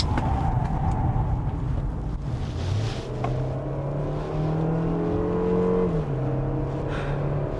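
A KGM Torres SUV accelerates hard on a race track, its engine drone climbing steadily in pitch, dropping at gear changes and rising again, heard loud and continuous from inside the cabin.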